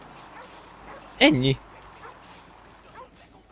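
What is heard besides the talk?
dog barking in video game Grand Theft Auto V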